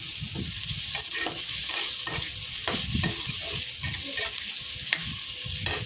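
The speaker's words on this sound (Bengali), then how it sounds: "আবারও একবার ভালো করে মিক্স করে নিলাম" Paneer sauté being stirred in a hot pan, a continuous loud sizzle with repeated scraping strokes of the spoon through the pieces, close up and busy throughout.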